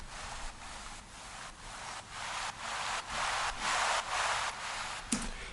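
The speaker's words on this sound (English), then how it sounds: "In this song I've used waves as well" An ocean waves soundscape run through a Kickstart sidechain plugin: a steady hiss of surf pumps in regular quick pulses, growing louder over the clip, with a brief brighter splash near the end.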